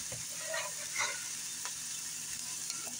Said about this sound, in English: so I'm gonna put the garlic in.